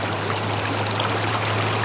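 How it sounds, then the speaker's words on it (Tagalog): Strong river current rushing steadily past a campsite at Sentro ng Bato in DRT, Bulacan, a dense, even wash of flowing water close by with no voices. "ang lakas ng agos"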